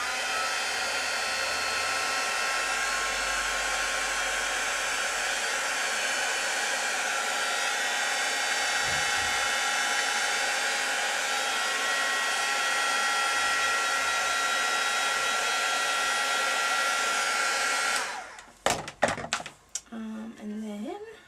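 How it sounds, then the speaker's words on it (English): A heat gun blows hot air over paint in a steady, loud, broadband roar for nearly twenty seconds, then clicks off and leaves a few brief handling sounds. "So then I would get my heat gun, excuse the noise."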